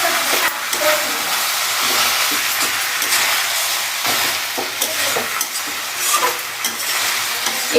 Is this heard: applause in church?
no